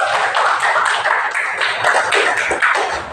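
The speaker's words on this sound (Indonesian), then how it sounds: "kasih aplaus untuk Bapak Ibu" Bapak and Ibu in a classroom group give steady, close applause, a dense patter of many hands clapping evenly for about three seconds with no voices over it.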